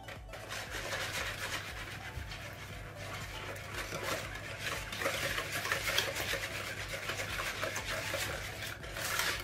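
Eggs and sugar being whisked in a bowl for a clafoutis: a steady, rapid scratchy swishing that goes on for several seconds, fairly close and without talk.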